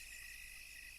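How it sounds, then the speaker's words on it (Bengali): Crickets chirp steadily by a river at night, a continuous high, even trill with a low background rumble and no voices. "নদীর পাড় থেকে ভেসে আসছে ঝিঝি পোকা আর শেয়ালের ডাক।"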